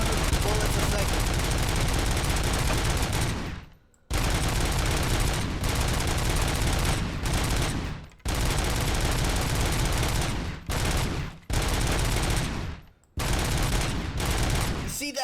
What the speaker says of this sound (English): How are you so good when you can unload 100 bullets a second?